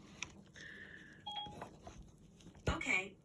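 A timer alarm sounds as a few short, thin electronic beeps and tones, fairly faint, with people talking nearby.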